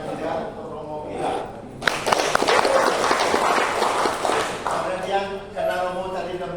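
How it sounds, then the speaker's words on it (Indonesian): An audience at a Catholic lay counselors' working-group session bursts into applause for about three seconds, a dense, loud wash of clapping that fades as a voice speaks before and after it. "Kita beri tepuk tangan juga untuk Romo kita."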